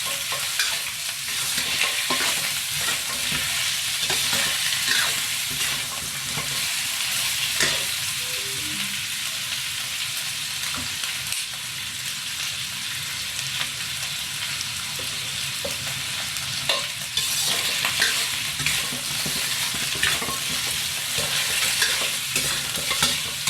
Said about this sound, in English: Stir-fry the meat first.